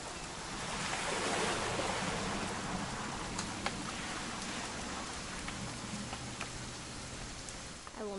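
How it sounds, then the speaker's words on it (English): Rain falls steadily in the video game What Remains of Edith Finch, a constant broadband hiss with scattered droplet ticks, moderately soft, with a low hum underneath. "It's gonna rain the whole weekend, isn't it?"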